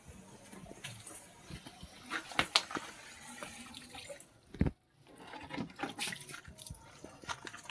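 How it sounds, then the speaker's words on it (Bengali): Water running into a bucket at home during evening chores, a steady rushing splash that breaks off briefly in the middle before resuming, close by, with clattering handling sounds and no voices. "বালতিতে জল ভরছি"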